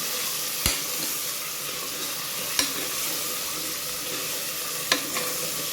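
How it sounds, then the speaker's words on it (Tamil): Mutton frying and being sautéed in a pan for kuzhambu, a dense, loud, constant sizzle with a few sharp utensil knocks at widely spaced moments. "இப்போ வந்து மட்டன் எடுத்து போட்டுக்கலாம் ஃப்ரெண்ட்ஸ். போட்டுட்டு நல்லா வதக்கி விட்டுக்கலாம்."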